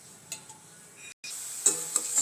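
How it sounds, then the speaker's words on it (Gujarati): Sev, noodles made of gram flour, frying in hot oil gives a faint, gentle sizzle, broken by a few light clinks of a utensil against the pan. "તો આવી જ રીતના આપણે બધી સેવ તળી લેવાની છે."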